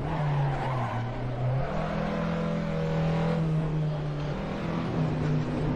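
A race car lapping the Zandvoort circuit, its engine droning loud and close at steady high revs, dipping and climbing again as it shifts through corners, with tire squeal hinted underneath.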